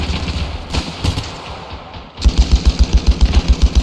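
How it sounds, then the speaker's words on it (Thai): Rapid semi-automatic gunfire from a World War I era rifle in the video game Ravenfield, a fast, even string of loud close shots that begins after a stretch of scattered distant firing. "ปืนไม่ใช่ปืนกลนะครับ เป็นปืนเซมิออโต้แบบรัว"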